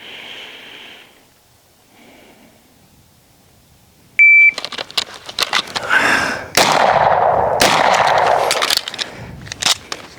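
During a pistol shooting drill, a sharp timer beep is followed by a rapid string of loud, close gunshots with uneven gaps, after a quiet lead-in with muffled sounds.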